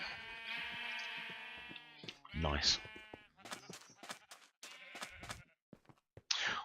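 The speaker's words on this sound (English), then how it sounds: "We have a sheep which is pink." A pink sheep in a survival video game bleats in short, wavering harmonic cries near the start and again briefly at the end, with someone talking over and between the calls.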